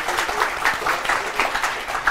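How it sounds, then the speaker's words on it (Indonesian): Audience applause at a televised political candidate debate show, a short burst of brisk, steady clapping that stays close and even throughout. "Tepuk tangan dulu boleh?"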